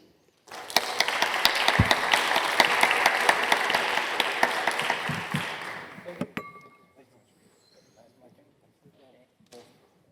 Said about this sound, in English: please give a big round of applause to our panelists here